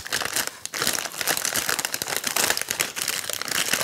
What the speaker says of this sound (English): I'm going to cut it along this seam. We'll see if I can tear it apart.